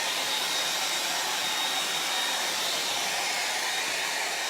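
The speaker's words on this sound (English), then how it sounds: "Let me just take my hair dryer really quick." A hair dryer blows steadily while drying a freshly cleaned surface, a constant close, loud airy whoosh with no breaks.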